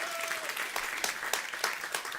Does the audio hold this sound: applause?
yes